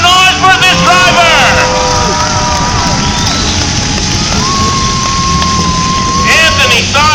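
Demolition derby crowd at a state fair grandstand cheering and shouting, a continuous roar of voices with whistles and yells under a loud announcer speaking over the public address.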